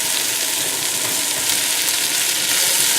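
Garlic and onions frying in olive oil in a big pot over low heat, a steady, loud, broadband sizzle that hisses on without pause and with no voices.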